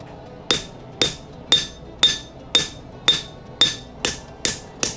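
Hammer blows ring out on a steel anvil while a Scottish dirk blade is forged, ten sharp metallic strikes in a steady rhythm about half a second apart, each with a bright ringing tail, close and alone.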